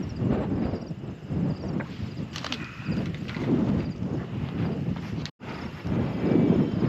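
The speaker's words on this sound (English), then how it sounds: "another windy day" Wind gusts across an open sheep farm dry lot, a broad rushing roar with microphone buffeting that rises and falls continuously, loud and close, with a brief dropout near the end.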